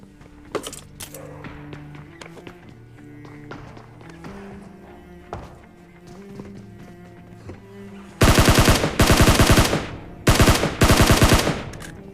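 Battle royale gameplay with quiet footsteps and ambient game sounds, then sudden loud sustained bursts of automatic gunfire from an auto gun in two long volleys.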